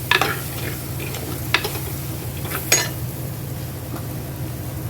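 Coriander powder being stirred in a frying pan for a crab curry, with a steady low sizzle of frying oil throughout and a few louder scrapes of the spoon against the pan.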